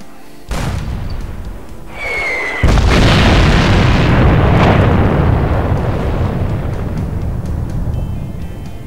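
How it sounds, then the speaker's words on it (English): A missile fires in a video game as a sudden burst followed by a whooshing streak and a huge roaring explosion that lingers as a loud, slowly fading rumble. "he's going to fire the missile"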